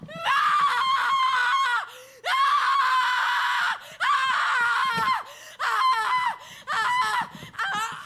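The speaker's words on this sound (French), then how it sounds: "arrête de crier comme ça!" A person screams loudly and shrilly in long, sustained bursts broken by short gasping pauses, close and intense, in a scene from the 1994 film Ceremony.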